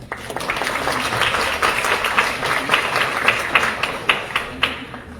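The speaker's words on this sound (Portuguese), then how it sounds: "Salve de palmas." An audience at a panel session applauds, a steady patter of many hands with individual claps growing more distinct and sparse toward the end, no voices above it.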